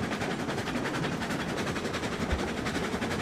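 A train running in the RailRoads Online video game, a steady rumbling roll with rhythmic clickety-clack of wheels over rail joints, loud and continuous with no talking.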